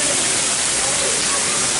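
A zoo waterfall in a penguin enclosure, a steady dense rushing hiss of falling water, fairly loud and uniform throughout the short stretch.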